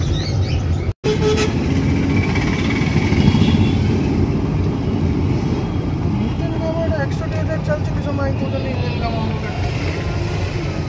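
A vehicle engine runs steadily and close, a dense continuous rumble with a brief cut near the start, while people talk over it.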